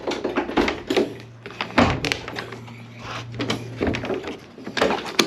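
Rear cargo door of a 2008–2014 Ford E-Series Econoline van with a broken latch cable, released by pulling the cable from inside: several close, loud clunks and thumps of the latch and door, with hollow metallic knocks throughout.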